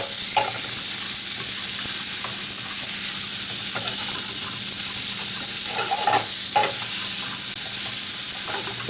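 Meat fries in a pan with a loud, steady sizzle throughout, broken by occasional light scrapes and clicks as it is stirred.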